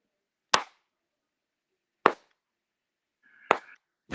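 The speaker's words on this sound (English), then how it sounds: "It's not the clapper. He's just clapping." One person claps hands: four sharp, isolated claps spaced well apart in near silence, crisp and close.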